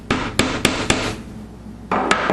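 Hammer blows drive a nail into wood while building a MAME arcade cabinet control panel, four quick sharp strikes, a short pause, then two more, close and loud with no talking.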